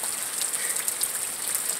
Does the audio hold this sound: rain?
yes